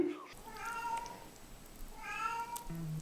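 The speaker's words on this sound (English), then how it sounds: "The cat is hungry." A hungry cat meows twice, each call a drawn-out, rising-and-falling cry, fairly close and clear over a quiet room with faint background noise.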